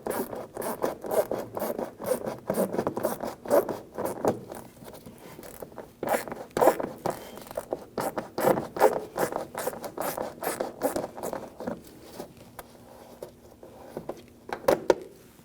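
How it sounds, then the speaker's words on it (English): A shorty ratchet fitted with a 7/32 socket loosens fender liner screws on a 2010-2019 Ford Taurus, giving rapid rasping clicks in repeated bursts up close, with short pauses between turns and no talking. "I'm going to use a 7/32 socket with my shorty ratchet here."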